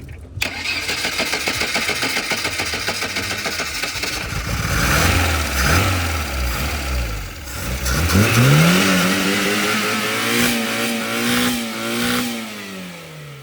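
A sport-tuned 1985 VAZ 21011 engine at a Samarkand car market cranks and fires, idles with a lumpy beat, then revs up loudly and close, its pitch climbing and falling through several throttle blips.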